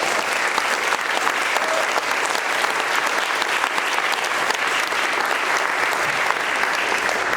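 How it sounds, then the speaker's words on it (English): A church hall audience at a local candidate forum breaks into steady, sustained applause, dense overlapping claps filling the room evenly from start to finish without pause. "yes, go ahead and applaud."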